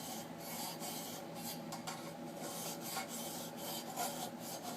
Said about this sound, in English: insert the sharpening tool through, rest it on the back edge and the cutting edge